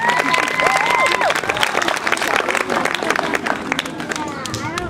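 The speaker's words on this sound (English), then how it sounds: "How about we give him a round of applause?" Crowd applause and cheering at a judged competition, loud, continuous clapping with whoops and shouts, a whistle-like voice sliding up and down early on, and the clapping thinning slightly near the end.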